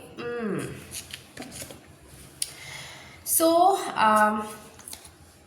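Tarot-style cards are handled and laid down on a surface: brief papery slides and soft flicks between bursts of close speech.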